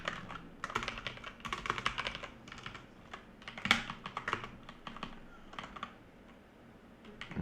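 Fingers tapping quickly on a computer keyboard during a coding session, bursts of crisp close clicks with short pauses between runs of keystrokes, no voices.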